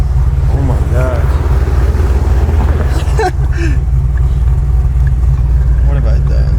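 Car engine fitted with NSR cams running while driving, a loud, steady low drone throughout, with someone talking over it.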